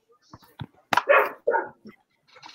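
Several dogs barking in short, excited bursts at a home, a few loud yaps clustered mid-way with fainter yips and whimpers around them, fairly close with no talk.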